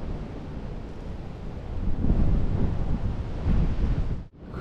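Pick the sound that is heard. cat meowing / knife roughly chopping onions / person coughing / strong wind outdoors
strong wind outdoors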